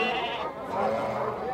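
Goats bleating at a goat and sheep livestock market in Campina Grande, a brief loud wavering bleat close by, with crowd murmur behind.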